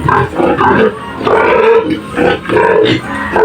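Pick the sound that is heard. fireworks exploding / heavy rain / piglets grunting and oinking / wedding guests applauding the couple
piglets grunting and oinking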